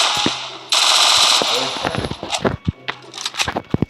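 Rapid automatic gunfire from a video game, a sustained burst followed by scattered single shots and short bursts, loud and close, with speech mixed in.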